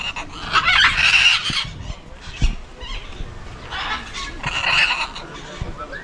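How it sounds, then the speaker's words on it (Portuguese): Birds calling at a zoo in Portugal, including blue macaws and parrots, with loud harsh squawks in two bursts and smaller chirps in between, close by and unaccompanied by talk. "Aqui é muito pássaro. Arara azul, tem papagaio, tem passarinho também"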